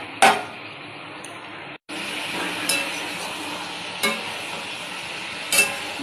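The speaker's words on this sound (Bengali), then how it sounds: "এবার ভাজতে থাকবো যতক্ষণ না এঁচোড় সেদ্ধ যে জলটা এঁচোড়ের মধ্যে আছে সেই জলটা যতক্ষণ না শুকায়" Boiled young jackfruit being stir-fried in a pan with a soft constant sizzle, broken by four sharp utensil strikes on the pan and a brief cut to silence, close and without speech.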